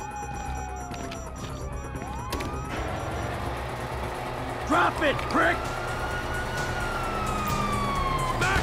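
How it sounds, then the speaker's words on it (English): Police sirens in the video game GTA 5 wail and sweep up and down loudly through the scene, overlapping one another, while someone shouts aggressively. "Hear that? Siren!"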